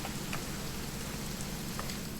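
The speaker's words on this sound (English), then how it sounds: "It's gonna rain the whole weekend, isn't it?" Steady rain falls in the video game What Remains of Edith Finch, a dense, even hiss with a few faint separate drops and no voices.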